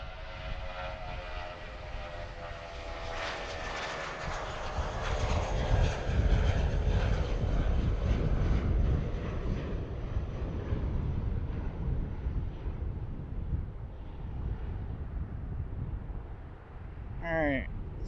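Cargo airport with an airplane taking off, a loud, distant engine roar that builds and holds through the takeoff run and then slowly fades, with radio chatter heard over it.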